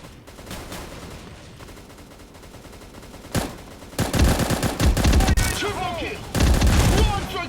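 Rapid automatic gunfire bursts and booms in the shooting game Bullet Angel: Xshot, sparse early then dense and loud from the middle on, with a player's voice and game effects mixed in.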